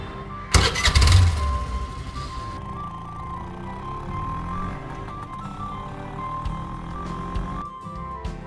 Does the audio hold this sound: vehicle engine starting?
yes